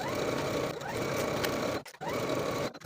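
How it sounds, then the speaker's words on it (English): A sewing machine edge stitches a dress in a fast continuous whir, pausing briefly twice before starting up again. "I'll take it to my sewing machine and edge stitch close to that upper inner fold"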